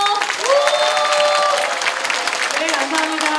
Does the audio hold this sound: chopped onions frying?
no